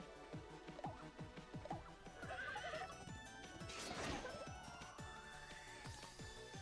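A horse neighs in the video game Miitopia, a loud whinny rising and falling over steady background game music, with faint clip-clop accents.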